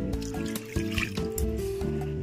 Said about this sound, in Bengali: এর মধ্যে আমি দিয়ে দেবো দুধ